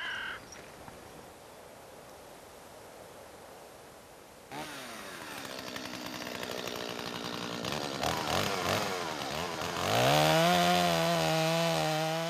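Chainsaws cut wood in a snowy forest. It begins as a quiet outdoor ambience with a crow cawing, then a saw starts abruptly and its engine whines higher and louder as it bites into the timber.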